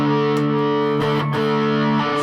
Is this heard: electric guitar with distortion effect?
yes